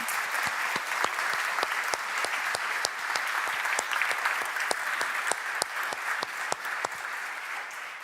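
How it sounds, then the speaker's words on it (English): Sustained audience applause at the Greater Manchester Green Summit, dense steady clapping from a crowd with sharp individual claps standing out, continuous for the whole stretch with no talk. "If everyone could give a massive round of applause to Khadija Patel,"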